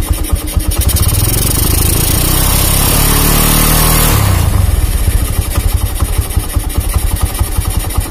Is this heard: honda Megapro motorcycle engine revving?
yes